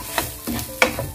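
Spices, turmeric and coriander powder, being stirred into prawn polao rice in a pan, with three or four short scraping strokes over a soft cooking sizzle.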